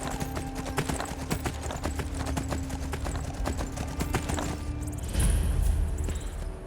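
A horse's hooves clip-clop in a steady walking rhythm in the Skyrim video game, close and continuous over soft ambient wind, ending with a brief louder rush of sound.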